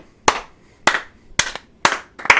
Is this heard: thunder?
no